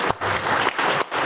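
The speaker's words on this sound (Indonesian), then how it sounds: "Tepuk tangan dulu buat Anda semua" An audience at a corporate leadership event claps in bursts, dense applause broken by a few brief pauses, loud and close with no voices over it.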